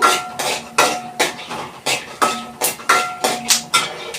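A spatula stirs seeds roasting in a dry pan, making loud rhythmic scraping clanks about twice a second, each stroke rising and fading in an even back-and-forth pattern.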